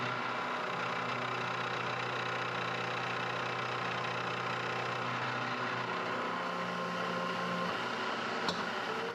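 A metal-cutting machine running at 1600 RPM, giving a continuous, even mechanical hum with steady tonal whine throughout and one brief click near the end.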